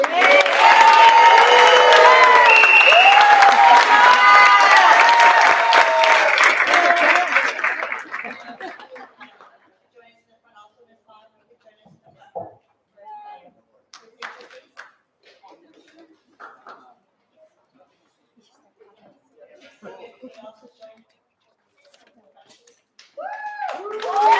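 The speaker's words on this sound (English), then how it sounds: "One big round of applause" A school district board meeting crowd applauds and cheers for a Teacher of the Year honoree, loud and lively for about eight seconds with voices and laughter mixed in, then the room falls nearly quiet apart from scattered small noises.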